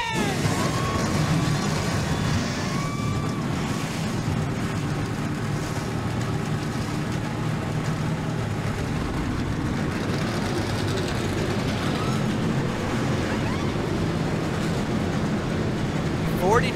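Stock car engines fire up and rumble together in the NR2003 racing game, a dense, steady mechanical roar holding at constant loudness throughout with no pauses.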